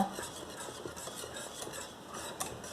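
A spoon stirs thickening homemade vanilla pudding in a pot on the stove, producing a soft, steady scraping and sloshing with faint clinks against the metal, fairly quiet and close.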